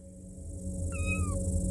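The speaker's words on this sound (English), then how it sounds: "Don't touch me, you little cat." A cat meows once in a video game, a single rising and falling cry that stands out over a steady bed of game ambience and low hum.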